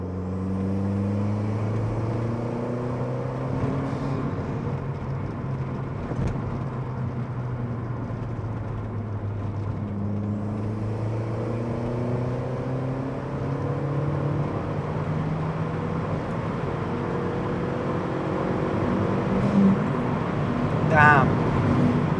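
A Skoda Octavia vRS Mk1 accelerates hard through the gears, engine pitch sweeping upward in repeated long climbs with dips at each shift, heard from inside the car over steady road noise, a voice speaking over parts of it.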